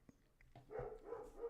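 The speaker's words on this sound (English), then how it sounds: "These dogs, man." Dogs bark faintly in the distance, a few soft thumps followed by three evenly spaced barks, quiet and alone.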